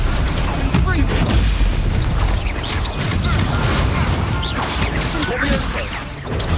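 Repeated Confringo fire spell blasts in the Hogwarts Legacy video game, a dense run of booming, crashing explosions over a constant loud battle din, with spell-casting voices mixed in.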